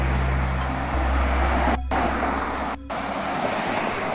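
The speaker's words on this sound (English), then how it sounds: "There's all sorts of cars." Steady urban street traffic rumbles past a city garden, a broad continuous roar of passing cars, loud and close, with two very brief dropouts.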